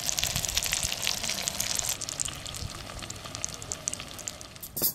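Steamed puti fish dish still bubbling in a pot, a steady bubbling, sizzling hiss with small pops, close and fairly loud, continuing unbroken for the whole stretch with no talk.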